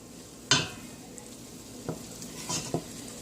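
Flour cooks in a pot for chicken tortilla soup, with a spoon stirring and scraping in a few separate strokes over a faint, steady sizzle.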